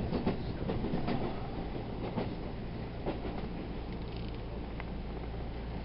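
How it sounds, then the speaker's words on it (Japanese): A train pulls into Nagoya Station in Japan, its low rumble and rhythmic wheel clatter steady and close throughout, with no voices. "列車は名古屋駅に到着。"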